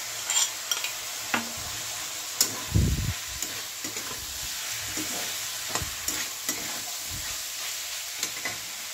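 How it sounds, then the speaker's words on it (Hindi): Ginger garlic paste frying with spices in a pan, stirred now and then, with a soft steady sizzle and scattered scraping and clinking knocks against the pot, no talking. "मसाला भून के अदरक लहसुन का पेस्ट डालेंगे,"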